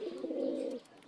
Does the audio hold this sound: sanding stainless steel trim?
no